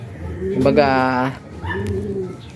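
Pigeons coo during a courtship display, two soft throaty rolling calls close by, one after the other.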